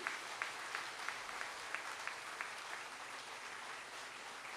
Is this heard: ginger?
no